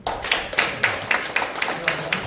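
A small lecture audience claps in a steady, slightly uneven rhythm, about nine distinct claps in a row, moderately near and without talk over them.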